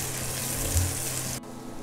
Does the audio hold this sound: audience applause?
no